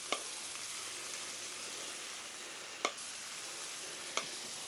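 Butter sizzling on a hot flat-top griddle while a chicken cordon bleu sandwich is cooked: a steady close hiss throughout, broken by a few faint sharp ticks, with no voices.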